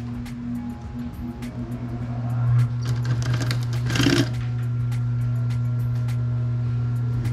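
Close by, a sewing machine stitches an armchair cover in a steady buzzing hum with rapid ticking needle strokes, briefly surging louder midway before settling back to a constant drone.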